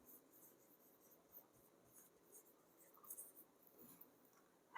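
A pen scratches steadily across paper as a chemistry definition of isomerism is written out, a faint, continuous rubbing with small uneven bursts and a sharper tap at the very end, heard alone without speech.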